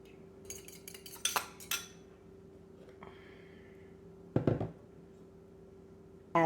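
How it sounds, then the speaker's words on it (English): Egg mixture being mixed into flour for pie dough, with a utensil clinking and scraping against a bowl in short bursts, close and fairly quiet, separated by pauses, with no speech. "Add the egg mixture to the flour and mix till everything comes together and forms in a ball."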